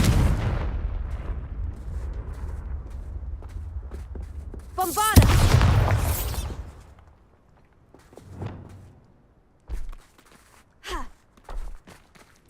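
A Confringo explosion spell goes off in Hogwarts Legacy, a loud broadband blast about midway through, followed by a trailing rumble, then quieter scattered footsteps and small impacts; a brief vocal sigh may be present.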